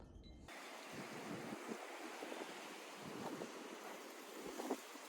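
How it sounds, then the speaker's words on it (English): Steady wind buffeting an iPad microphone outdoors with noise cancellation on, a constant rushing roar with low gusty thumps, fairly faint overall. "It's a little bit windy on my iPad."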